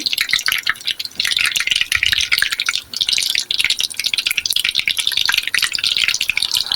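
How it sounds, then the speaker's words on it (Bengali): Semolina pitha frying in hot oil, a constant crackling sizzle with dense spitting pops, close and loud for the whole stretch. "তেলের মধ্যে একটা করে পিঠা দিয়ে দিচ্ছি।"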